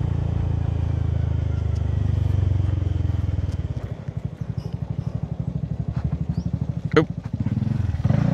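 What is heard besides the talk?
Honda Forza 300 motorcycle riding past checkpoint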